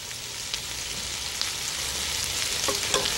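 Dried fenugreek leaves, kasuri methi, cook with a splash of water in a pan, making a steady wet sizzle and hiss with occasional soft stirring taps, close and continuous.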